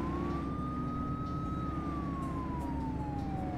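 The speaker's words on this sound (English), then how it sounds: "when responding to an emergency, activate your lights and sirens" Police car siren wailing in The Precinct video game, a single steady rising-and-falling tone held loud over a dense engine and road rumble.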